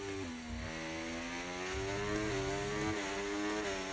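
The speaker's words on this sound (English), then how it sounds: "Why do your cars sound so good?" Race car engines in a modded Formula 1 racing game, Azerbaijan circuit, revving steadily at high pitch with smooth upshifts and downshifts, loud and continuous with no talk.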